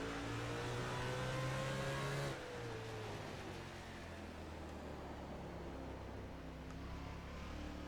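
Race cars at Martinsville in the NASCAR Racing 2003 video game, engines roaring steadily at high revs with a shift in pitch as the pack accelerates on the restart, loud and continuous without speech.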